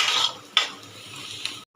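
Boiled jackfruit seeds mashed in a bowl, a few close metallic scrapes and clinks of a utensil against the dish between quieter rubbing, ending abruptly.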